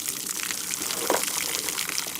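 Water gushes steadily out of a plastic milk jug, a continuous close splashing pour.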